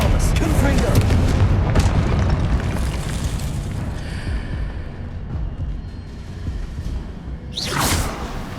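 A Confringo fire spell blasts in Hogwarts Legacy, a heavy booming explosion with rumbling low end that swells and decays, followed by a sharp whooshing burst near the end, with a voice calling out spells.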